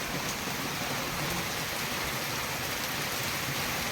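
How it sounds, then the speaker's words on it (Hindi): Steady, dense rain pours down in a village, a continuous broadband hiss with no pauses and no voices over it. "ए देखो वर्षा"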